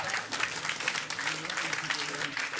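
A small group claps at a casual gathering, with a dense, uneven patter of hands and voices talking over it.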